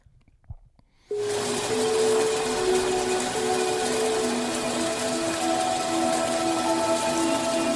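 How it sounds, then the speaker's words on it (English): A sleep sound track of rain and wind chimes starts abruptly after a quiet second, then steady rain hisses loud and even with faint sustained ringing tones beneath it. "That's like wind chimes and rain."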